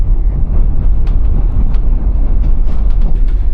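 A first-class carriage of a Polish train rumbles along at close range, a loud low steady roar with faint clicks and rattles from the carriage.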